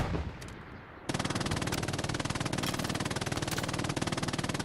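Sustained MG42 machine gun fire in a WWII shooter match at Carentan canal crossing, rapid continuous bursts starting after a second of quieter gunfire, loud and close with dense overlapping shots.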